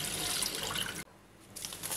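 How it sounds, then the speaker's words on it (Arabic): Milk pours into a bowl for a date and nut flan, a close liquid splash that pauses briefly and then resumes. "هنا ندفق الحليب"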